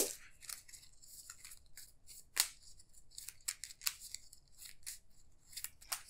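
Crisp, papery riffling and snapping as a deck of cards is shuffled during a tabletop game of the Arkham Horror card game. Close, quiet bursts of flicks and slaps are heard alone, with no voices.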